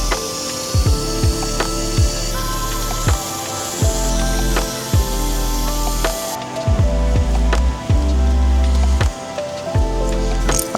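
Water sprays from an extendable garden hose in a garden, a loud, close hiss interrupted by irregular drips and knocks.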